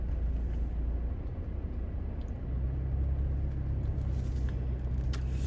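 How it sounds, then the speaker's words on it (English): Steady low rumble of many idling and moving cars packed into a busy seaside area near cafes and bars, a continuous dense traffic drone with no clear voices. "There's hundreds of cars in here, it's packed."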